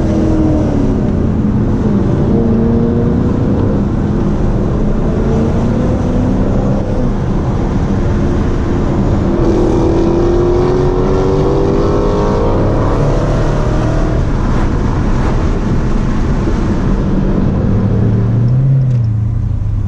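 A Dodge Hellcat widebody idles close by after pulling up at a canyon cruise meet, a loud continuous low rumble with a slight rise and fall in engine tone throughout.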